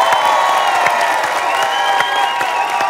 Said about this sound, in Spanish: Esta noche vamos a ver un fuerte aplauso para Ariel.